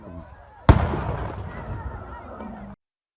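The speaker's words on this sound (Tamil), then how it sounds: "தொடர்ந்து வெடிகள் வெடித்ததால் யானைகள் செய்வதறியாது திணறியது." A firecracker set off to drive elephants away goes off with one sharp, loud bang, then its crackling echo trails off and stops abruptly a couple of seconds later.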